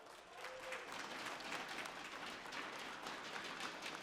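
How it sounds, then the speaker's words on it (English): A quiet round of applause rises from the audience at a WGLNA esports finals match for team Scurry Hard, faint and distant, continuing evenly throughout. "Please, one more round of applause for Scurry Hard."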